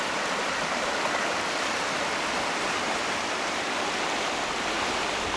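Swollen, flooded river rushing past as a steady, loud broadband roar of water, continuous and unbroken with no voices over it.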